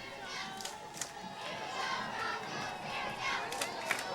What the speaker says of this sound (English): Cheering for the local favorites.